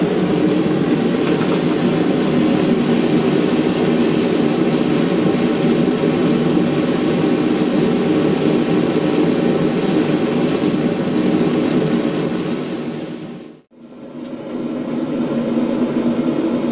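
A propane forge burner roars steadily after being lit with the ball valve opened, a loud, constant, close rush of flame that cuts out briefly near the end and then returns at full strength.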